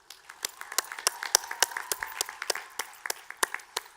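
Light, sparse clapping from a commencement audience, individual claps distinct and uneven, moderately near with no crowd roar.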